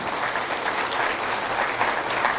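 A church congregation applauds loudly during a Spanish-language sermon, a full, continuous burst of many people clapping close by for a couple of seconds.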